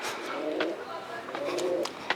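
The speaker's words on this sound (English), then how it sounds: "Shut up, pigeon." A pigeon coos nearby in soft, low repeated phrases outside a building in Spain, with brief rustles and a sharp tap near the end.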